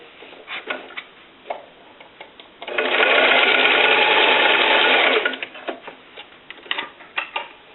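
A sewing machine stitches down one side of a strap tab for a clutch bag in a single steady run of about two and a half seconds, close up, with fabric handling clicks and taps before and after.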